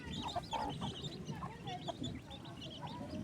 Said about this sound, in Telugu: కోడి చూడండి ఎట్లా తడిచిపోయింది